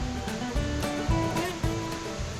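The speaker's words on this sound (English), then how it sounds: "It's a waterfall and a beautiful spot on the river Falloch." Waterfall on the River Falloch near Loch Lomond in Scotland, pouring into a large pool; a steady, close rush of falling water with brief surges, no voices.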